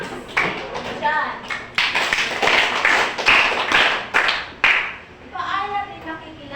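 A classroom of students claps a quick patterned round of five claps, several sharp bursts close by, with a teacher and children talking over and between them.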